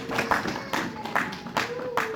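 A church congregation clapping in praise of the Lord: steady rhythmic claps in an even beat, about two per second, with voices mixed underneath.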